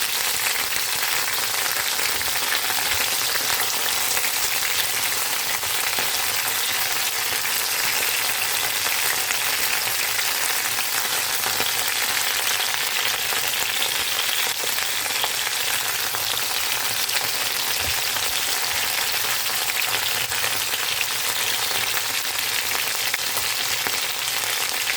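Food frying in hot cooking oil in a home kitchen, a steady close sizzle with dense crackling that runs unbroken throughout, with no talk over it.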